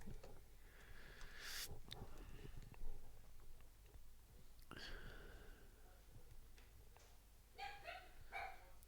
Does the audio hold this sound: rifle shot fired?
no